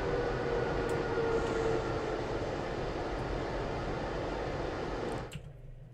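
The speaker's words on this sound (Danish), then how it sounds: "og så parkerer vi bare toget her" A train in the Train Sim World game, a DB rapid transit service, rumbles steadily with a broad mechanical roar and a brief tonal whine, then cuts off abruptly near the end as it comes to a stop.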